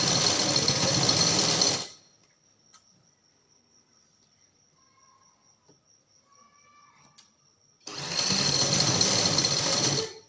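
An electric sewing machine stitching a design onto a trouser leg hem runs loud and close in two fast whirring bursts, one at the start and one at the end, with a quiet pause of faint clicks between them.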